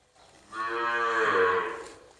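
A young cow from Mae Sot, held among newly arrived cattle for sale, gives one long, low moo that swells and fades, close and alone.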